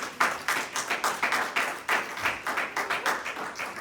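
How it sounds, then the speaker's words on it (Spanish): A church congregation claps in steady rhythmic unison, a dense, lively patter of hands filling the room without pause and with no talking over it. "Denle un aplauso al Señor"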